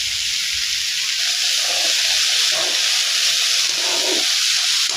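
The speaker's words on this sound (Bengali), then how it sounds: "এবার এটাকে নেড়ে চেড়ে হালকা করে ভেজে নেব" Green chili and ginger paste frying in a pan for Chinese-style fried rice, giving a continuous bright sizzle and hiss that stays even and close throughout.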